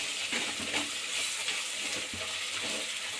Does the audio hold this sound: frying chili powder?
yes